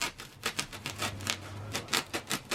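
A knife cutting a battery crate in half, heard as a quick run of sharp, close clicking and scraping bursts in an uneven rhythm.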